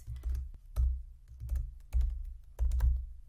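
Soft, close clicking of a computer keyboard as a search query is typed, irregular clusters of keystrokes with short pauses between them.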